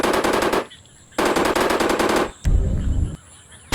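Rapid automatic gunfire in the mobile game Indian Bike Driving 3D, two loud close machine-gun bursts followed by a heavier short burst and a final clipped shot.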